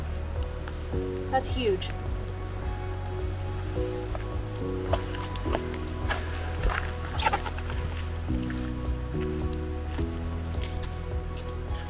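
Rain falls steadily in a rainforest, a dense patter with scattered drops over a low continuous hum, while a person speaks briefly nearby.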